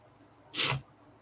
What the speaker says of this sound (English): I'm sorry if I go mid sneeze sometimes, and then not sneezing.